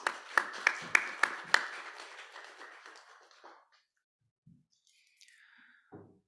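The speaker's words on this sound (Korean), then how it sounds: "우리 에바다 찬양팀 그리고 에브라임 찬양대 격려의 의미로 함께 박수하도록 하겠습니다" A congregation claps in a church youth worship service to encourage the worship team and choir: a handful of sharp, reverberant claps at moderate distance that quickly thin out and fade into near silence.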